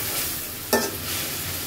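Drumsticks being cooked down with spices in a pan, a continuous close sizzle broken by one sharp clatter of stirring partway through, no talking.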